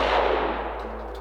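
A single shotgun blast fired at a clay pigeon on a shooting range, loud and close, with a sharp onset and a long fading tail and no voices.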